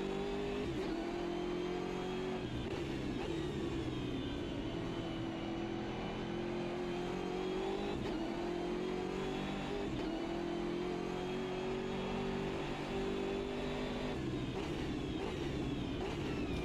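BMW GT3 race car engine in the Automobilista 2 sim racing game, a continuous loud mid-pitched drone rising and falling as the car accelerates, shifts and brakes through corners, with no talking.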